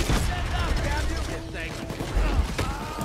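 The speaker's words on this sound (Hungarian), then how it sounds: "Többet nem lövöldözök, mert nehogy a végén még csapattársal is végezzek." Bursts of gunfire in Payday 2 crackle through a dense, busy mix, with a few sharp shots standing out and a voice talking over parts of it.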